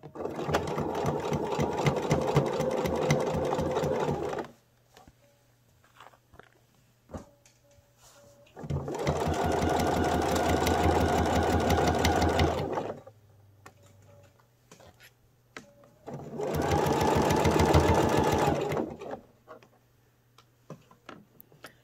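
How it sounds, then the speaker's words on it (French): A domestic sewing machine stitches a lined zippered pouch in three steady bursts of rapid mechanical chatter, with quiet pauses and faint handling noises between runs. "Après quelques points arrière, je suis partie pour la couture."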